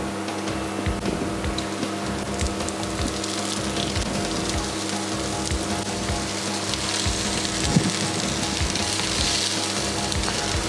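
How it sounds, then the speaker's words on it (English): Onion and mushrooms frying in a little oil in a hot pan for beef stroganoff: a steady, close sizzle and crackle that carries on without a break, with faint clinks and stirring sounds now and then. "we're going to fry the onion and mushrooms until they are also cooked and brown"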